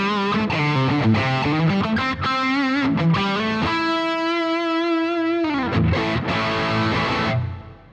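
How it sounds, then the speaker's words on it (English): Electric guitar played through a Boss GT-1000 Core effects unit with a high-gain tone and reverb, a quick run of notes followed by a long sustained note and a final chord that fades away. "So here's my basic reverb sound."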